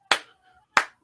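Two sharp, close hand claps about two-thirds of a second apart, a lone person imitating the rhythmic clap a pro wrestling crowd makes for a wrestler, with silence between them.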